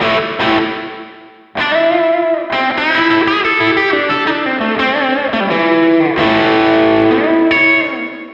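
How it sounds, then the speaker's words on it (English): A distorted electric guitar through an amp's reverb effect rings out in sustained chords and notes, with a lingering reverberant tail between strikes, loud and close. "There's quite a lot of reverb on offer as well."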